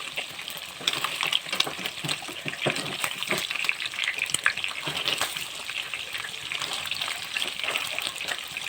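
Mutton pieces fry in a pan for Lebanese pulao, a loud continuous close sizzle with crackling spatters and occasional stirring scrapes throughout.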